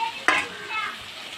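Carrot, beans and potato stirred and sautéed in a tomato gravy, giving a soft sizzle with a sharp scraping stir near the start, close and moderately loud, no talking.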